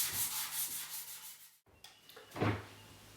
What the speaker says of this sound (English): I've finished the sanding